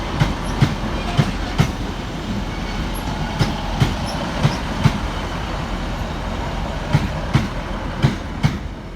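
Northern service trains at Manchester Piccadilly station during rush hour, including a diesel unit arriving off Buxton, with a steady rumble under regular, evenly spaced wheel clicks over rail joints.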